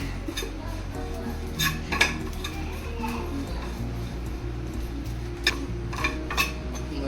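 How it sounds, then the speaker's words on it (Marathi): Dried prawns roast in a pan while a utensil stirs them, making intermittent metallic clinks and scrapes over a low, steady background hum. People talk nearby throughout. "म्हणजे पूर्ण लाल होईपर्यंत त्याला भाजायचं."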